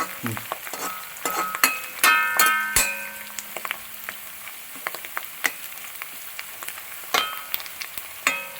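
Chicken stew ingredients with curry leaves are stirred in a pan for a Kerala-style stew, with a ladle scraping and knocking against the metal over a soft, steady sizzle, sharper clatters clustering early and again near the end.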